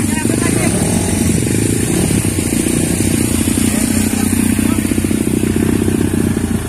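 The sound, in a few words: trail motorcycle being kick-started and running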